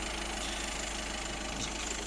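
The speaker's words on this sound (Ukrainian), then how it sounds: "І власник замітив, двигунчик тихіше працює набагато." A freshly imported VW Golf 1.6 TDI diesel engine idles quietly after its EGR, DPF, throttle and manifold were cleaned, giving a steady, soft, even hum with a faint knock and no talk.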